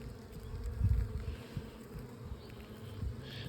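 Honeybees buzz in a steady low drone close by during a Layens hive inspection, with soft bumps and handling noises around them and no talking.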